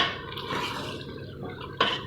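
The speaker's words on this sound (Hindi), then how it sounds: "यहाँ पे मैंने तकरीबन 1 किलो के करीब चिकन लिया था, वो ऐड कर देंगे" About a kilogram of raw chicken tipped into a cooking pot of masala for chicken shahi korma, a brief wet slide and clatter against the metal pot, then a sharp clink of a utensil near the end.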